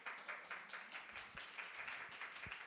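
Audience applause at a dance education conference, a quiet, steady patter of clapping hands in a room, evenly continuous across the short stretch without any voices.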